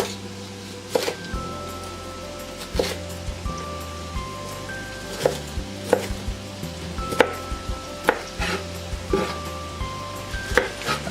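Vegetables are cut into big hearty chunks for a chili stew, with irregular knife chops landing on a board every second or so over a steady sizzling kitchen background, close and moderately loud, with no talking.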